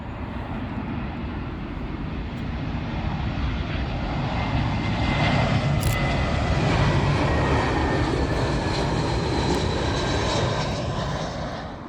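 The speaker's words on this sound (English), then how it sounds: "British Airways A320, and this one is not just all over the place, but is arriving in from Valencia" A British Airways Airbus A320 arriving on runway 27L at Heathrow, its engines a loud, broad roar that swells as it passes close overhead, then eases slightly, with no talking.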